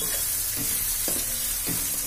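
Macaroni fries with tomato and spices in a pan over a lowered gas flame, while a spoon scrapes and stirs it in a few distinct strokes over a soft, steady sizzle.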